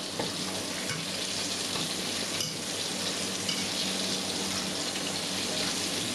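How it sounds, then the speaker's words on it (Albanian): Constant crackling sizzle of chicken meatballs frying over medium heat in a pan, steady and close, with a few soft clinks and shifts along the way. "Qoftet I skuqim nga njëra anë dhe I kthejmë nga ana tjetër."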